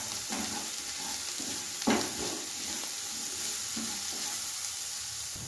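Spices such as cumin, coriander and chilli powder being stirred into vegetables frying in a pan for Bengali mixed vegetable dal, giving a steady close sizzle with soft scraping stir strokes and one louder clatter.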